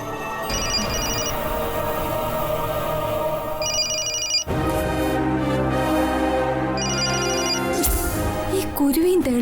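A telephone rings repeatedly in a dramatic domestic scene from a Malayalam TV serial. The electronic ringing repeats in short bursts, layered over loud, swelling background music.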